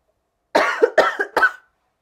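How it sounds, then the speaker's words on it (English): Three sharp coughs in quick succession, close and fairly loud, each a rough burst with a short tail, alone without talk. "There's the coughing"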